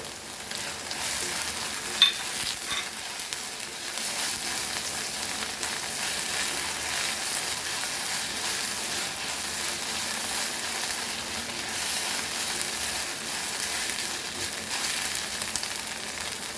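Chopped garlic sizzles steadily in a hot pan for an eggplant bharta, a continuous close hiss of frying with a brief sharper pop near the start and no voices.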